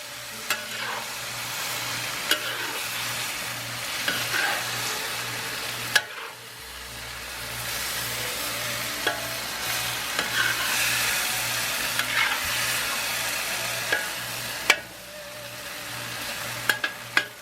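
Shrimp and broccoli stir-frying in ginger garlic sauce, a steady close sizzle with occasional sharp clicks of a utensil against the pan and a low hum underneath, no talk.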